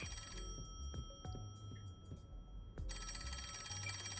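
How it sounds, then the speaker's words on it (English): In the video game Rain Code, a phone rings in two electronic trilling bursts separated by a pause, sitting over a constant low game-music bed with occasional soft clicks. "Come on, answer the phone."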